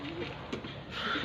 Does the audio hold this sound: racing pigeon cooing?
yes